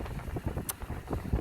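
Strong winter wind buffets the microphone at a cold rockfish hole-fishing spot, a steady low rumbling roar with gusty swells and no voices.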